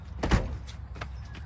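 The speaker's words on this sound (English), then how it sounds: "Right, I'll move this door." A caravan door on a fold-down Drifta Stockton UP-15E is moved with a short knock near the start, then a couple of fainter bumps and rattles, close by, with no talking.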